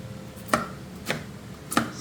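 An onion being sliced with a knife for sinigang, three sharp, separate chops against a board, loud and close, with no talk.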